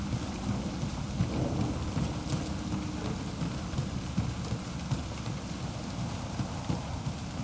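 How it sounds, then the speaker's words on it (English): Steady heavy rain pours in the fantasy role-playing game Dragon Age Inquisition, with low rolling thunder rumbling underneath throughout, dense and continuous with no talking. "Boy, it rains here almost as much as it does the Storm Coast."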